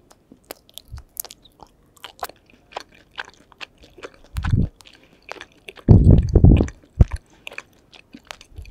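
Close-up soft, sticky chewing of tteokbokki rice cakes with occasional crunchy bites, irregular and quiet, growing louder in a couple of bursts of mastication.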